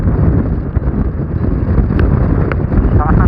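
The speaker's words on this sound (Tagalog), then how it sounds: "Lakas ng hangin." Strong mountain wind roars steadily past a microphone while riding an ADV160 scooter, a dense constant rush with a few faint clicks and no clear voices.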